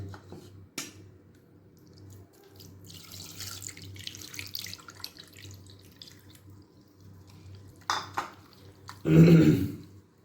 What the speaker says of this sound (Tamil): இப்போ இது கூட நம்ம வடித்து வச்ச தண்ணி